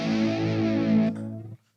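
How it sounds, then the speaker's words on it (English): An electric guitar played through a distortion pedal gives a loud, sustained, saturated chord of about a second. It then cuts off and a softer tail trails away, with no voices. "All right, we have a distortion pedal."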